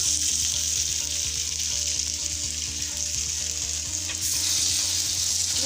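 Chapli kebabs laid in long pieces fry in hot rendered meat fat with a loud, crackling sizzle. Small pops repeat through it, and the sound grows briefly louder near the end.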